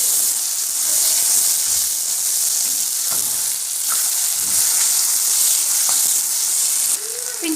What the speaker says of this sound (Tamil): இப்போ வந்து இஞ்சி பூண்டு பேஸ்ட் நல்லா வதங்க விட்டுடலாம்.